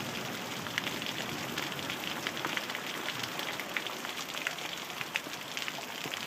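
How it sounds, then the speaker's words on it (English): Heavy rain pours down steadily during a downpour in Prince Albert, a dense, constant hiss with scattered louder drops striking surfaces close by. No one speaks. "So much rain fell."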